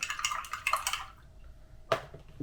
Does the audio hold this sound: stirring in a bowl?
yes